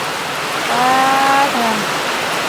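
Heavy rain falls steadily in a dense, loud hiss across the whole stretch, with a faint tonal whine rising and fading briefly in the middle.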